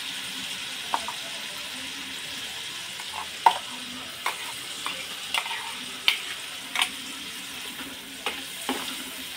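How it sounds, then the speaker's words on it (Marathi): Ground masala paste fries in hot oil in a pan over medium heat for matar paneer, a faint steady sizzle broken by regular soft scrapes of a spoon stirring, close and alone with no talking. "अशा पद्धतीने हा मसाला बनवून या तेलामध्ये टाकायचा आहे. अगदी थोडासा परतला की लगेच हा वाटलेला मसाला टाकायचा."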